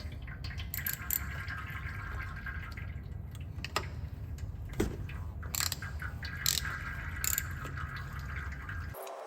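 A 3/8 drive ratchet with a 27mm socket clicks rapidly in short bursts while undoing the oil filter cap on a 2.2 TDCi Ford Transit Custom engine, close up, with metallic taps and a faint drip between strokes.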